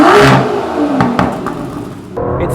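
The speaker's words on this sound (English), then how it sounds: "It's got that signature 12-cylinder howl that you get from the naturally aspirated stuff." A naturally aspirated V12 in the new 700bhp Aston Martin V12 Vantage revs sharply in a loud opening burst, then drops back to a lower, fluctuating engine note with brief blips, heard up close with no talking.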